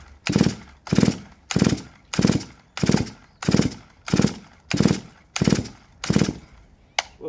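A Farmertec G444 chainsaw is cranked on its first start attempt, giving about ten loud, evenly spaced pull-start bursts roughly two-thirds of a second apart without settling into a running idle.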